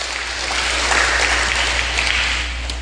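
Congregation clapping during a prayer service, a dense, even roar of many hands clapping continuously at fairly close range, with no voices standing out.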